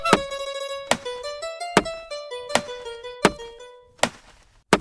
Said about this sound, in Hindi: अरे ये तो पेड़ काटने की आवाज है।